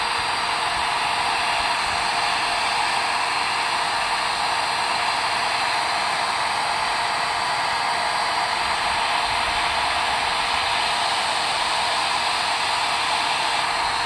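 Heat gun blowing steadily and loudly while melting a plastic rain barrel for repair, a constant rushing airflow with no pauses.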